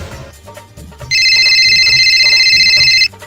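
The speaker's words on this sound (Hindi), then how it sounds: "अरे ये किसका फोन आ रहा है फिर?" A telephone rings with one loud, sustained electronic trill lasting about two seconds, close and clear above a quiet background of faint low sounds.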